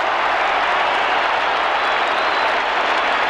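Collingwood Magpie supporters packed behind the goal at a 1990 AFL qualifying final against West Coast, a steady wash of applause and crowd roar, dense and even throughout without any clear single voice.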